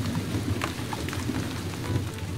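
Continuous rainfall outside, a broad steady wash of drops striking surfaces with occasional louder splats, heard alone without any talking.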